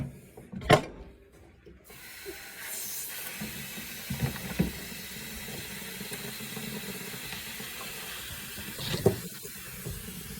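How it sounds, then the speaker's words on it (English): Pressurized water draining from a hose bib bleeder valve, a steady close hiss and splash of flowing water with a few metallic clicks and knocks over it, no voices. "Now I'm draining down this hose bib. Again, it's under pressure."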